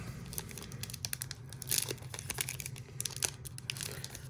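Foil wrapper of a 2021 Topps Archives baseball card pack crinkling and tearing, a steady close-up run of rustling with sharper rips scattered throughout, no talking.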